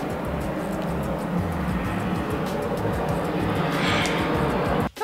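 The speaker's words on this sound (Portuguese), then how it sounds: "Avião!" An airplane flies overhead, making a continuous broad roar that stays loud and even for about five seconds before cutting off abruptly.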